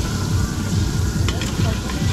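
Cooking oil sizzling in a pan in a busy catering kitchen, heard as a steady, loud hiss that runs the whole time, with a few faint clinks near the middle.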